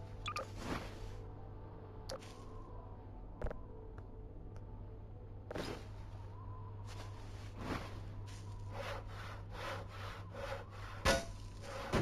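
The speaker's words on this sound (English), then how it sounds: "I think we can hacksaw this stuff." A hacksaw saws an object in the game Voices of the Void, producing scattered rough rasping strokes and scrapes over a steady low hum, some isolated and some in quicker bursts toward the end.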